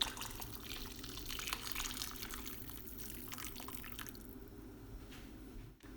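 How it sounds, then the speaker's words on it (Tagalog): Hot water being poured into a pot of chicken arroz caldo, heard as a steady, close splashing and trickling stream that thins out near the end, with no talk. "Tsaka magdadagdag pa tayo ng another 4 cups ng mainit na"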